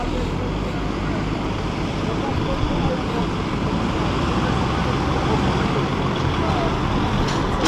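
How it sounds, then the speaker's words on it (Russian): A truck-mounted crane unloads concrete blocks from a lorry at a building site, its diesel engine producing a loud continuous rumble throughout, with voices talking now and then. "Вот манипулятор будет разгружать сейчас фуру."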